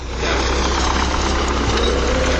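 A tractor pulling a seeder that sows and fertilizes a field at once, its engine running loud and steady at close range with a deep rumbling drone and no talking.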